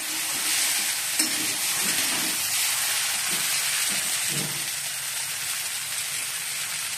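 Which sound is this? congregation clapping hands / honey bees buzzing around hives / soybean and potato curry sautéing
soybean and potato curry sautéing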